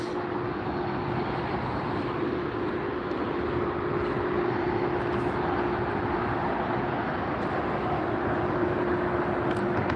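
A Norse Atlantic Boeing 787-9 Dreamliner airliner at LAX rumbles steadily as a broad, constant engine roar with a faint tonal hum, holding even loudness for the whole stretch.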